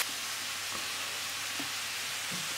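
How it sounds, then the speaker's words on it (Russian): Steady sizzling and crackling of onion frying in hot oil in a pan, a constant hiss with faint occasional pops. "Лучок отправляем жариться."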